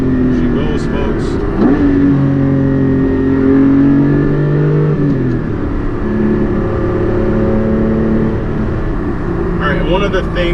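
A Porsche 718 Spyder engine revs hard and pulls away, its pitch climbing through the gears and dropping on each shift, loud and close for the whole stretch.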